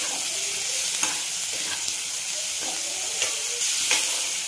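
Softened tomatoes with chopped coriander stirred in a hot pan, a continuous sizzle broken by several scraping strokes of a spoon against the pan, no voices.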